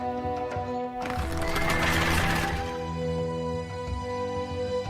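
Cavalry horses in the 0 A.D. strategy game whinny and neigh, one loud drawn-out neigh swelling in the middle over a continuous game soundscape with faint clip-clop of hooves.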